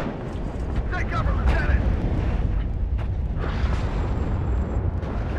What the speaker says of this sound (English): Mortar fire coming in to support.